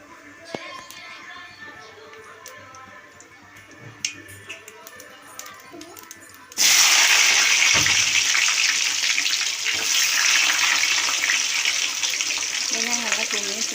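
Onions tipped into hot oil with popping mustard seeds set off a loud, steady sizzle that starts abruptly partway through, after a quieter stretch of small crackles and clinks, for a Tamil-style vathal kuzhambu.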